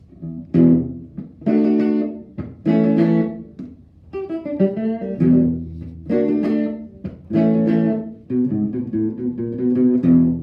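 A clean, undistorted electric guitar plays a riff of short melodic phrases with brief gaps between them, bright and close.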